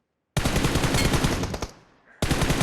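PUBG Mobile gunfire: loud, rapid automatic bursts that stop briefly and then resume.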